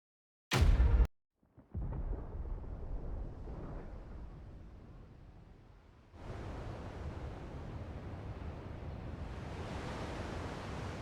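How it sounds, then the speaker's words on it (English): Thunder in Final Fantasy XVI, a sharp loud crack followed by a long, low rumbling roar that fades and then swells again into a steady, heavy wash of noise. "Sounds like thunder."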